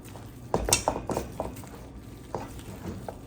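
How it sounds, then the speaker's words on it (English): Spoon scraping and clinking in a bowl while stirring carrot pulp mock tuna mixture, a series of irregular close taps and soft scrapes. "Now I'm just gonna try to mix it around so we won't have like a big piece in one area"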